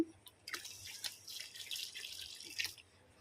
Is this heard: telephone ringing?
no